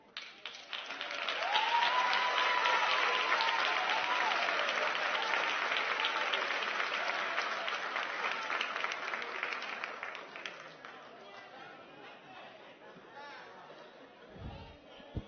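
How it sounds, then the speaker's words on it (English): Audience applause and chatter at a middle school team awards ceremony swell early, then fade slowly into quieter crowd murmur, with a brief voice near the end. "Please hold your applause till the end so everybody else can hear everybody else's name."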